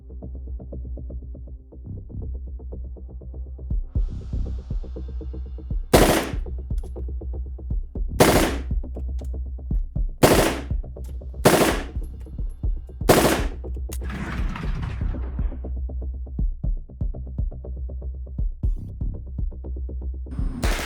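Submachine gun firing several short bursts, each a sharp loud cluster of rapid shots separated by pauses of a few seconds, over a steady low background hum.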